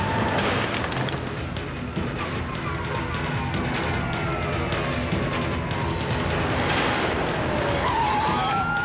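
Police car siren wailing during a chase, its sweeping tones rising and falling over steady road and engine roar, loud and continuous throughout.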